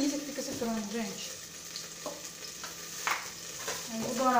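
Chicken frying with onion in oil in a pan, a steady close sizzle with stirring scrapes throughout and a brief murmur of a voice at the edges.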